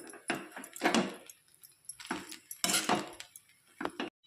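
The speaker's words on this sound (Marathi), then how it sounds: "हे चांगलं फिरून घेणार आहे आता" Bursts of metal scraping and clinking as tempered rice (phodnicha bhaat) with lemon and coriander is stirred in a pan, several strokes with short pauses in between, close by.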